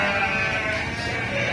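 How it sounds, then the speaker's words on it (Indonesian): Full-blood Dorper sheep from Australia bleat in a continuous, wavering cry lasting just over a second, fairly loud and close, with no one talking. "kambing-kambing full blood Dorper dari Australia."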